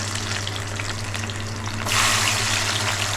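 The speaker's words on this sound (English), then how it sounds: "Then I'm going to add a handful of chopped garlic." A handful of chopped garlic drops into hot oil with fenugreek seeds and urad dal, a steady close sizzle that suddenly swells into a louder, brighter hiss partway through, with no voices.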